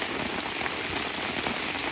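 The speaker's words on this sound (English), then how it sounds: "it's still pouring outside" Heavy rain pours down in a loud, unbroken wash of pattering close by, with no voices.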